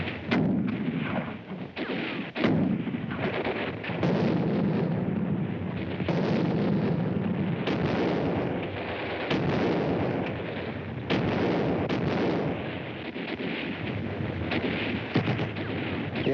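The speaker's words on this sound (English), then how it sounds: "The veteran German troops bar the way with a crossfire of mortar and machine gun fire." Continuous battle din of mortar and machine gun fire from German troops in the Italian campaign of World War II, dense rolling blasts and bursts throughout, loud and sustained with no voices.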